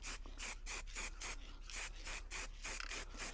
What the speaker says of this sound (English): I'm just going to give it another texture coat just to tidy it up